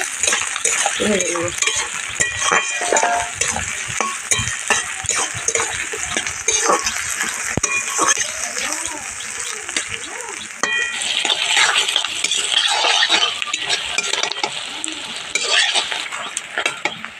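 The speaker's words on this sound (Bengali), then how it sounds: "দিয়ে দেবো দুটি তেজপাতা ভালোভাবে এবারে ভেজে নেব" Two bay leaves fried in oil in a village kitchen, loud busy sizzling with constant stirring scrapes and clinks of a spoon against the pan, close up.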